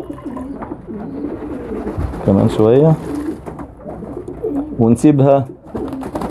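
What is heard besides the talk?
pigeons cooing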